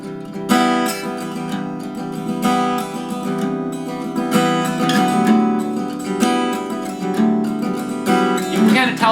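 A guitar strums a steady pattern in six with accents on certain beats. Full chords ring through continuously at moderate loudness, with no voices.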